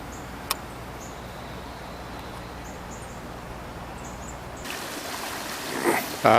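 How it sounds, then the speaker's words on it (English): Floodwater rushes through a drainage culvert in a continuous, even broadband wash that holds steady throughout, then swells and turns brighter near the end. "The water flow has gone down substantially"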